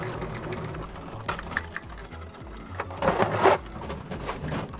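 A drain cleaning machine feeds its cable into a 4-inch drain line with a continuous mechanical rattle and whir, close and moderately loud, swelling into a louder grinding burst near the end; no one speaks.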